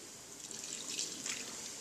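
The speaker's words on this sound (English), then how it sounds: "I'm going to add a little bit of water" A little water runs into a mixture with a faint, steady trickle and light splashing for a couple of seconds, quiet and without speech.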